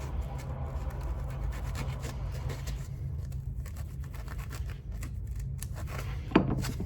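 Scissors trim a piece of PVC for a homemade kayak light, giving a close, continuous run of snipping, scraping and rubbing with one sharper crack near the end, against a low steady hum.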